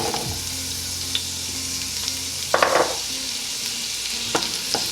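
Celery and shallots frying in a pot over medium-high heat, a steady soft sizzle with a few brief stirring scrapes, no voices.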